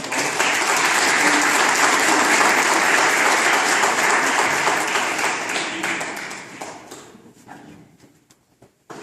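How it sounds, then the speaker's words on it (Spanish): A crowd applauds loudly and steadily for several seconds, then the clapping thins out and fades to a few scattered claps. "Un aplauso."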